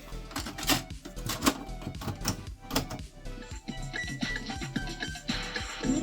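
A cassette tape is ejected and flipped over in a Sharp WQ-T360E twin tape boombox, producing a close, dense run of plastic clicks, clacks and thunks from the deck mechanism with no talking.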